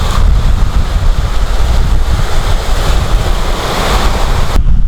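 Sea waves surge and wash onto the shore at Torrevieja, a loud, continuous roar of surf mixed with wind buffeting the microphone.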